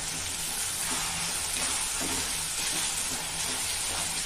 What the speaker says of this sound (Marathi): आता हा टोमॅटो घालूया बारीक केलेला, बारीक चिरलेला